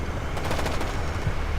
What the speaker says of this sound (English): You can see that my men are taking fire from